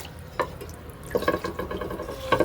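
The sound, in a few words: water being poured to fill a pigeons' water bowl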